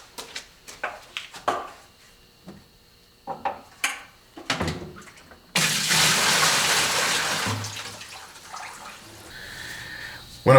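Water rushes steadily out of a boiler bucket in a 187-year-old house, a loud continuous splashing drain that starts abruptly after several short knocks and clanks and runs to the end.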